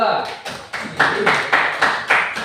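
A classroom group claps in about six distinct bursts roughly half a second apart, rhythmic and fairly close, applauding a student group before its presentation, with faint speech mixed in.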